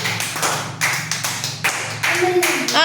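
A classroom of children claps together in several bursts of sharp hand slaps, close and loud, with voices mixed in near the end.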